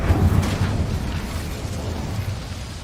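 Incendio fire spell blast in Hogwarts Legacy, a single loud burst with a deep rumbling boom at the start that trails off into a crackling, fading wash of fire and debris.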